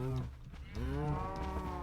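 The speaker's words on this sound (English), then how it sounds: "So we'll see if we can get some cows up and actually into the farm." Cows mooing in the Minecraft video game, two long, loud, close lowing calls one after another with no talk over them.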